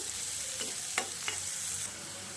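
Onions fry in hot oil in a pan for a stuffed baby brinjal curry, with a steady close sizzle and a few sharp spatula scrapes and taps. No one speaks.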